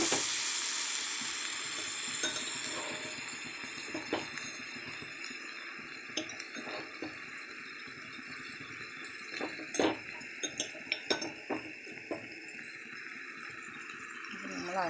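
Ground coconut paste dropped into a hot pan for a Kerala thoran, giving a steady broad sizzle with scattered clinks and scraping, while a voice talks intermittently over the frying.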